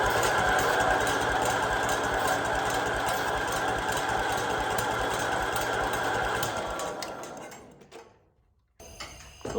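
A Gilson Montgomery Ward garden tractor engine cranks over on a cold start without firing, a loud steady mechanical churning that runs for about seven seconds before fading and stopping.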